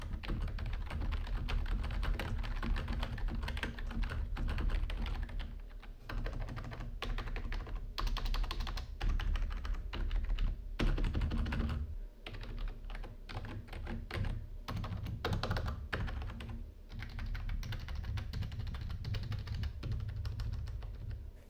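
Steady, fast typing on a HyperX Alloy Core RGB gaming keyboard with mushy membrane keys, a dense run of close key clacks and thuds that carries on without a break and with nobody talking.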